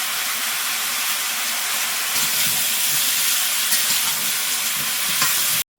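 Fish dropped into a cooking pot in Sundarban sends up a loud, steady, close-up sizzle and hiss of frying that holds without a break until it cuts off abruptly.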